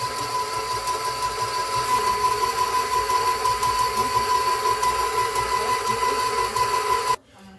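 A stand mixer fitted with a dough hook kneads pasta dough, running at about half speed with a steady motor whir and rhythmic churning that continues unbroken before cutting off abruptly near the end.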